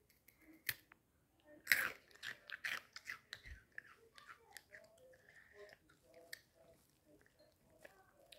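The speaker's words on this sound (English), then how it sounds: "So I'm gonna try like a breadstick with the sauce to just see how it tastes." Someone bites into a breadstick dipped in hot sauce and chews it, a sharp crunchy bite followed by a run of quiet, close chewing crunches and small mouth sounds.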